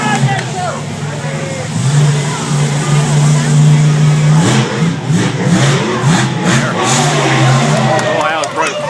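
A monster truck engine revs loudly and continuously up close at a monster truck event, the pitch rising and falling through repeated throttle pulls, with people talking over it.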